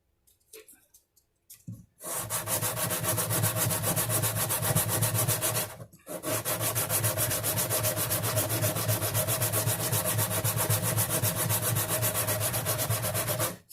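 Sandpaper rubbing steadily against a wooden guitar bridge to lower the action, working in a rounded motion. Close, continuous scraping that starts after about two seconds, pauses briefly near six seconds, then carries on without talk.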